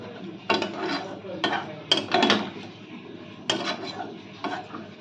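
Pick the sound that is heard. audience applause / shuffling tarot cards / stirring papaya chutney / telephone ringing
stirring papaya chutney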